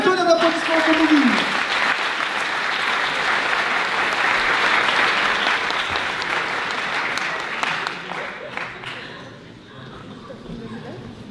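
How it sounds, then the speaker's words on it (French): Conference audience at INSA Toulouse breaking into loud, sustained applause, dense clapping that carries on for several seconds before thinning out and fading, with a brief voice near the start. "Mesdames et messieurs, un tonnerre d'applaudissements pour Movin."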